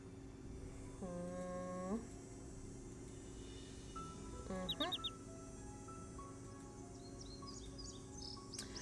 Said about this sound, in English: There are also some very loud birds.